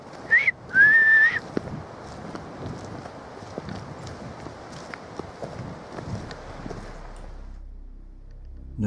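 A short two-note whistle rings out at the start, then faint rustling footsteps and ambient noise in Delamere Forest at night continue until near silence.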